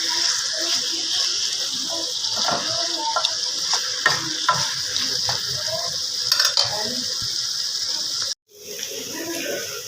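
Chicken pieces fry in a pan until brown, giving a steady close sizzle with scattered crackles and stirring scrapes throughout, ending in a brief cut near the end.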